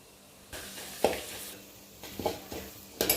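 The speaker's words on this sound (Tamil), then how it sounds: "கடுகு பொரிஞ்சிருச்சு. இப்போ கடலைப்பருப்பு போட்டுக்கலாம்." Chana dal and popped mustard seeds frying in oil, a faint sizzle broken by several bursts of stirring and spoon clinks against the pan, close and without voices.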